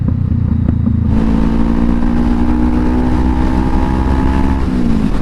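A 2020 Honda CBR500R motorcycle engine and exhaust rev loudly and up close, a steady droning roar that climbs after a quieter idle opening, then holds and dips slightly near the end.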